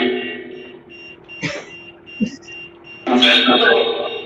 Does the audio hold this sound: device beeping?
yes